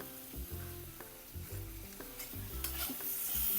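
Asafoetida hits hot oil for vada pav, crackling and sizzling as it is stirred, with scraping stir strokes and a faint tonal background.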